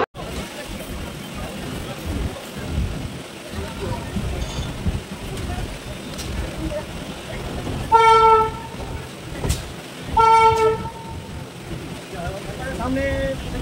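A Siuri–Sealdah MEMU express train pulls out of Bardhaman station, with continuous rumbling wheel and carriage noise and two loud horn blasts in the middle, the second following shortly after the first.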